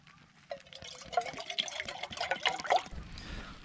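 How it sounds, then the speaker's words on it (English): Peat-coloured water collected from a small moorland waterfall splashes into a camping pot, a close, gurgling pour that builds over a couple of seconds and then trails off. "Using that peat coloured water that we got from the little waterfall earlier."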